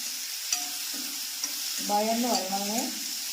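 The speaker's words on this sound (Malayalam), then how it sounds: "ഇത് മൂത്തൊന്ന് വഴന്ന് വരണം" Chopped onions with a pinch of salt sauté in a hot pan for a papaya curry, a steady sizzle broken by the clatter and scrape of a spoon stirring through them, close and alone.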